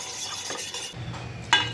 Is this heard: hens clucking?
no